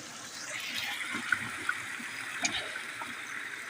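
A river flows nearby in wild bear country: a steady, soft rushing and trickling of water fills the whole stretch at moderate distance, with a few faint clicks and no voices.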